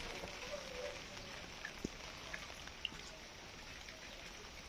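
Steady rain hisses across the whole stretch, with a few sharper drips landing nearby.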